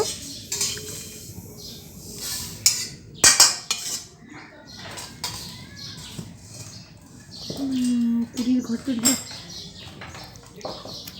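A spatula clanks and scrapes against a metal wok as ingredients for a jujube pickle are stirred and turned, with irregular close knocks and a few sharp metallic hits. Brief voices and faint background sounds come through between the strokes.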